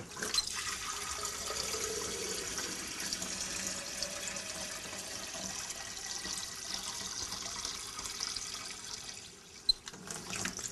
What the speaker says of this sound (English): So let's see how long it takes to fill our beaker.